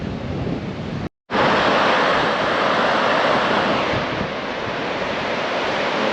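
Ocean waves breaking against a rocky coast with cliffs and a sea cave, a loud continuous roar of surf with heavy wind buffeting, briefly cut out near the start.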